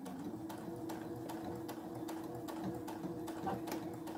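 A sewing machine stitches cotton tape onto a cotton dish towel, a quiet even hum with a faint regular ticking beat, close but low in level and alone.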